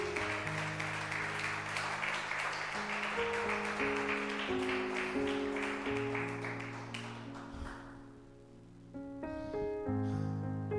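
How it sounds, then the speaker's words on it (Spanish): A church congregation claps together for several seconds, a dense steady patter under sustained music with held tones, then the clapping fades out and the music carries on alone. "Dale un aplauso al Señor."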